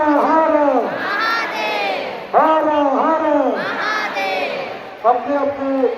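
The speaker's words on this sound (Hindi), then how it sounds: "देखो कितना भीड़ हवे यहाँ।" A large crowd at a Hindu temple gathering for Mahadev roars and shouts in repeated rising waves, loud and close, with voices chanting together in a steady rhythm.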